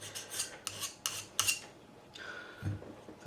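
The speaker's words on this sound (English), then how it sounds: "My number 3 cut file. It's not the finest file, but it's perfect for this." A number 3 cut hand file scrapes over a screwdriver blade in several short, quiet rasping strokes with pauses between them, close up and without talk.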